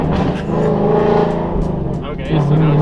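Car engine driving on a road test after an ECU re-flash for lean/rich running in bank 1, a steady loud motor hum with a rising pitch change near the end, likely gear or throttle shifts.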